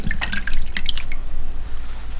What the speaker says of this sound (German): Abtropfen lassen.